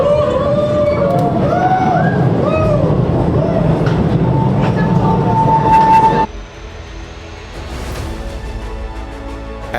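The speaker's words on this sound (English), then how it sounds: "what makes it special is that they have an underground train" Underground tourist train rolling through Postojna Cave in Slovenia, a loud steady rumble with squealing wheel tones for about six seconds, then quieter clattering running noise as it continues.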